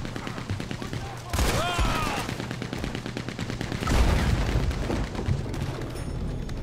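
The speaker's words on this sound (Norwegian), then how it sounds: "Jeg bare skyter til det." Gunfire in Red Dead Redemption 2, rapid loud shots in uneven bursts and volleys with a heavier booming swell midway, set against a busy game soundscape.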